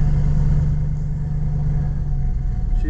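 An old 534 cubic inch gasoline engine in a farm truck runs steadily after new plugs and wires, a loud, close, continuous low rumble with a smooth even drone and no talking.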